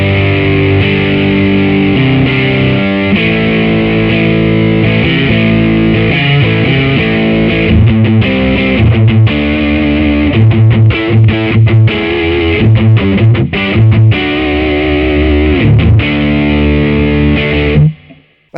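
An electric guitar played through a Boss & JHS Angry Driver overdrive pedal gives a loud, continuous stream of driven chords and riffs with thick, gritty saturation, then ends abruptly.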